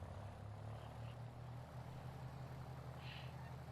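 Steady, even drone of a Marchetti S 205 piston aircraft engine in Microsoft Flight Simulator, a low continuous hum running at a constant level with no talking.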